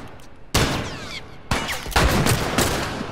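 Loud, close gunfire in The Last of Us during a factory attack: a handful of heavy booming shots at irregular intervals, each followed by a reverberant tail, with no talking.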